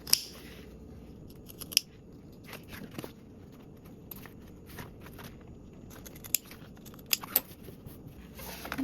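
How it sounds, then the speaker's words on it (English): Scissors snip through fabric while trimming the corners of a sewn seam allowance, a few sharp, close cuts scattered over quiet, soft handling noises in between. "trim your seam allowance corners"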